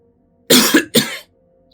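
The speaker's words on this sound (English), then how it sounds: "I just coughed." Two quick, harsh coughs close to the microphone, the second following the first after a short pause, then silence.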